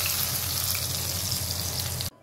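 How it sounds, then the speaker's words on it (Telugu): Hot tempering poured into buttermilk kadhi (majjiga pulusu), a steady loud sizzle that continues for about two seconds and then cuts off abruptly. "ఇప్పుడు ఈ తాలింపుని ఇందులోకి ట్రాన్స్ఫర్ చేసుకుందాం."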